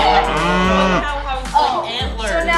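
Cartoonish cow moo sound effect from a drawing video game, two loud drawn-out moos with a bending pitch, the second starting shortly after the first ends.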